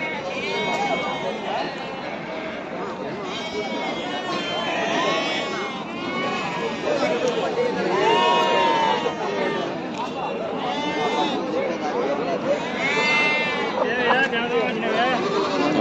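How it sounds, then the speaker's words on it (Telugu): Sheep and goats bleat over and over at the Pileru sheep market, with many overlapping calls under constant crowd chatter and people talking nearby. "వచ్చేసి మేక పోతులు చూడండి"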